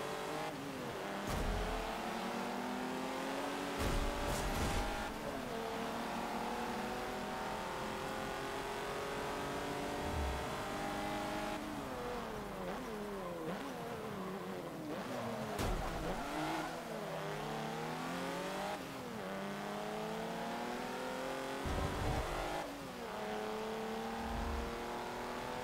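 A stock 2-litre sport touring car in Forza Motorsport 7 revs continuously at high pitch, climbing through gears with repeated rising sweeps and short drops at each shift, loud and sustained throughout.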